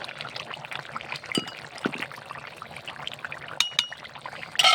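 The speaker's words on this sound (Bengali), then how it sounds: "এবার মাছগুলা দিয়ে এই দেখে মাছ ঢেলে দিলাম।" Snakehead fish pieces are poured into a simmering vegetable curry, giving a brief wet pour with soft splashes, light clinks of a utensil against the pot and a gentle bubbling underneath, close up with no talking.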